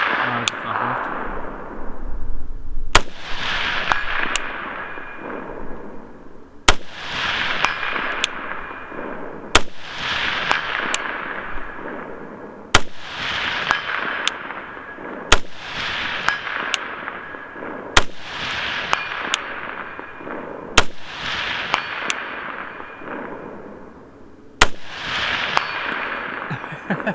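Single gunshots from an ACR DMR rifle fired outdoors during return-to-zero testing with a quick-swap barrel, about ten loud sharp cracks at steady intervals of roughly two to three seconds, each followed by a rolling echo.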